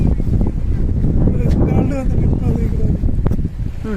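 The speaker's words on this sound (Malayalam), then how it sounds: "നല്ല കാറ്റുണ്ട്" Wind noise at Beypore beach in Kozhikode, a steady blustery rumble buffeting the microphone throughout, with people talking nearby and faint sea sounds in the background.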